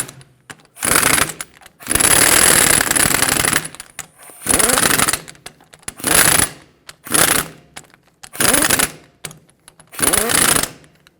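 A power tool runs down wheel hub bolts in a cross pattern on a 2007–2014 Chevrolet Silverado 2500 HD during rear wheel bearing replacement, with seven loud close buzzing bursts separated by short silences.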